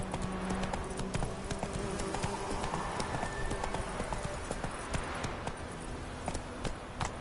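A horse galloping in the video game The Witcher 3: Wild Hunt, with quick, rhythmic hoofbeats clip-clopping steadily and close for about seven seconds and no speech over them.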